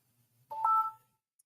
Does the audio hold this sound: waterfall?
no